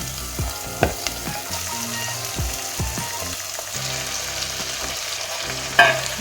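Fenugreek greens sautéing in a pan with onion and tomato, a steady close sizzle with intermittent scraping and stirring knocks, no voices.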